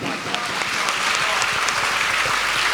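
Congregation clapping together during a Sunday church service in Kolkata, a brisk, sustained round of many hands at steady loudness.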